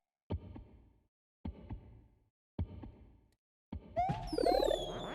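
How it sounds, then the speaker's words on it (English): Four slow, evenly spaced heartbeat thumps from a video game, each a deep double pulse separated by silence, with bright electronic game tones rising over the last beat. "I really don't like the heartbeat continuously."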